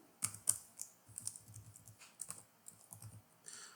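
Quiet, close typing on a computer keyboard during a programming lesson: irregular clusters of soft key clicks with a few sharper taps, no voices.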